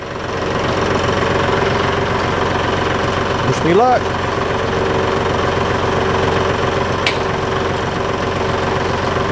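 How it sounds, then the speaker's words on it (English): Diesel engine of a backhoe tractor idling steadily throughout, a continuous low rumble with a brief whine mid-way as a hydraulic cylinder is worked; someone speaks briefly over it. "So we're ready to fire up the tractor and see if this will work."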